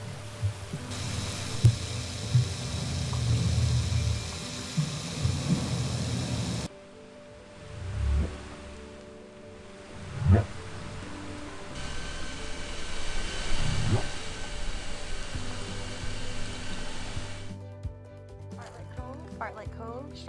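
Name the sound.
male harbor seal roaring, recorded by hydrophone in Glacier Bay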